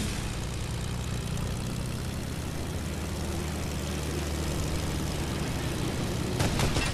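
A propeller plane's engine drones steadily in the Fortnite battle royale video game, a constant broadband hum with a low throb that stays close and even throughout, with no talking over it.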